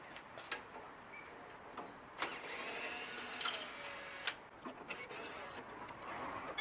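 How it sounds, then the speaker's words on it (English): Bolts being undone on a car's roof rack, heard as a run of metallic clicks, ratcheting and short scraping bursts from a hand tool, fairly close and moderately quiet, with brief pauses between turns. "I'm going to go around the car and undo all the bolts"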